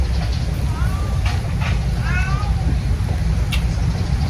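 A couple of short cat meows rise over a steady low rumble of background noise, moderately close.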